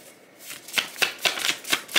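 Playing cards shuffled during a tarot-style card reading, a run of crisp riffling bursts in a steady rhythm, close and fairly soft, with no talk.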